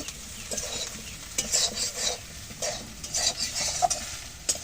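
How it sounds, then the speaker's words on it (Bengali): Potatoes and soybean chunks fry in oil in a karahi, making a moderate, steady sizzle. Repeated metallic scrapes and taps from a spatula stirring the pan sound close by, with no talking. "আলু আর সুন্দর করে ভেজে নেওয়া গেল"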